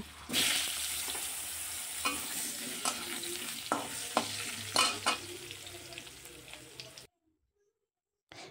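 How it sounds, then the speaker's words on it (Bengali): Potatoes frying in oil in a kadai, a steady sizzle with scattered clinks and scrapes of stirring, then sudden silence near the end. "এবার কড়াইতে যে তেল আছে ওই তেলের মধ্যে আমি আলুগুলো ভেজে নেব"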